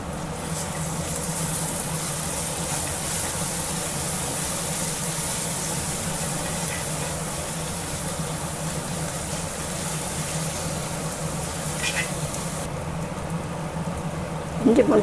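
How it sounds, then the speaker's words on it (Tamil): Ginger garlic paste frying in a pan with softened onions for an egg gravy, a continuous loud broadband sizzle and hiss that holds steady throughout. "நம்ம இஞ்சி பூண்டு பேஸ்ட்டை போட்டுக்கலாம்."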